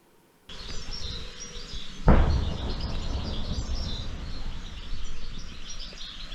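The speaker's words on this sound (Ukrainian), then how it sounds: "Птахи співають" Birds chirp and sing faintly over a steady outdoor background hum near the front line in Dnipropetrovsk region, Ukraine, after a sudden thump early on.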